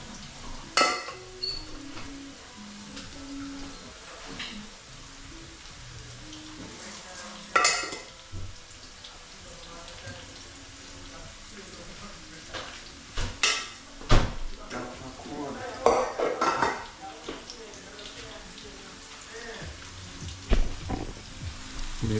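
Breadfruit frying in a pan for a Jamaican-style dinner alongside barracuda, with a soft steady sizzle broken by clinks of utensils and pots and occasional stirring, fairly quiet and close throughout.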